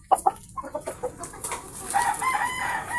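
Red Kelso chickens in a backyard farm give a series of short, close clucks and squawks, a few spaced calls followed by a longer drawn-out cackle.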